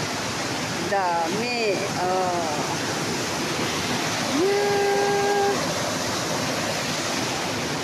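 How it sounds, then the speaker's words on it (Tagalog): Steady rushing water from a series of waterfalls roars throughout, with brief voices and a thin whistle-like tone rising above it. "Sunod-sunod ang talon."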